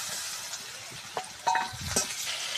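Ginger-garlic paste fries with onions in hot oil in a wok, giving a soft steady sizzle broken by a few clinks and scrapes of a stirring utensil.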